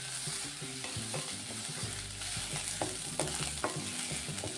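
Paneer frying and being stirred in a pan while cooking malai paneer, a steady close sizzle broken by repeated scraping and clinking of a spoon against the pan, with no voices.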